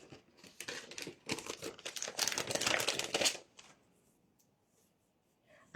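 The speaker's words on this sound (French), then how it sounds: "on met donc notre ruban adhésif" Adhesive tape crinkles and rustles as it is pulled and pressed onto a folded paper pop-up card, a close, busy burst of crackling that stops abruptly into near silence.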